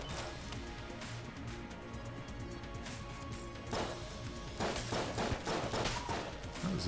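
Gunfire in the bullet-hell game Enter the Gungeon, a dense, continuous rattle of shots and crashes that stays loud throughout, swelling into heavier bursts during the second half.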